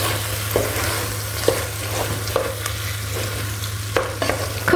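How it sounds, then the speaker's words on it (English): Spices for a chicken curry fry in a pan with a constant sizzle, and a spoon scrapes and stirs them in irregular strokes. The sound is close and loud, with no talking. "Cooking all those spices so it takes the rawness out of the spice and cooks through."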